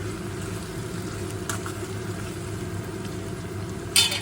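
Spiced chicken with potato and papaya, cooked with cumin, turmeric and chilli, sautés in a pan, giving a soft steady sizzle with a couple of brief utensil clinks.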